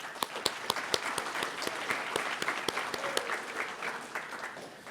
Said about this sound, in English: Let's have one more round of applause for the parents